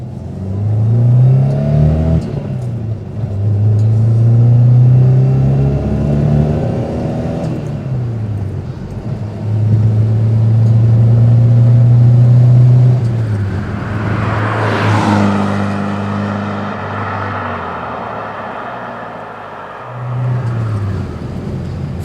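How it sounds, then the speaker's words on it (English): A classic Rover P6 2000TC with a four-speed gearbox and 110 horsepower accelerates hard through the gears. The engine note climbs steadily, drops at each shift and climbs again, loud and continuous from inside the car. "It feels a bit undignified in the old Rover, but it is number 27, so let's just take it through the gears."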